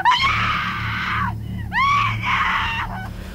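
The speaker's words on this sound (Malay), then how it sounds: "saya dengan suami terdengar anak saya pekik sekuat-kuatnya" A child screams loudly in fear at a front doorway at night, in long piercing shrieks of rising and falling pitch, broken by a short pause.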